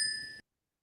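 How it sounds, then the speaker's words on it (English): A single bright alert ding from trading chart software, a clean bell-like tone that rings clearly for under half a second and then cuts off to silence. "EU is ringing the bell."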